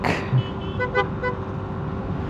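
A short series of horn toots from a Yamaha NMAX 155 scooter, three brief beeps in quick succession over a steady engine hum.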